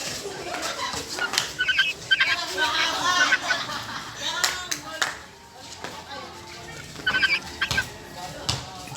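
Young chickens, including a rooster's offspring, in a small backyard coop, giving clucks and squawky calls in bursts up close, with rustling and some background noise.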